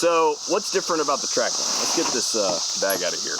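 Cicadas in Ohio keep up a continuous high, steady screech in the background outdoors while someone talks over it throughout.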